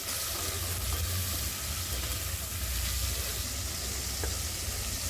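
Chopped tomatoes and half-softened onions sizzle in a pan for chicken biryani, a steady close hiss and crackle that runs unbroken with no talk over it.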